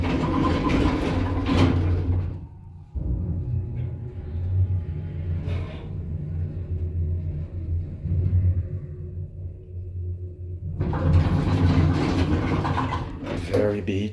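A 1994 Atlas Omega II traction elevator car rising in a residential tower: a steady low rumble and hum of the moving cab, with louder noisier stretches at the start and end where a voice is faintly heard.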